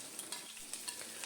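Noodle ingredients fry in coconut oil in a pan, giving a soft, steady sizzle with faint stirring taps. The sound is quiet and close, with no voices.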